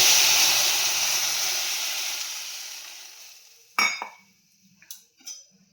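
Fried flattened rice being stirred as thickened milk goes in for chirer payesh: a broad steamy sizzle fades away over a few seconds, then a few sharp clinks of a spoon against the pan.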